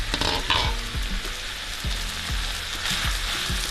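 Meat, potato and carrot mix frying in a pan for a meatpie filling, a steady loud sizzle with a few clattering stirs of a spoon against the pan throughout.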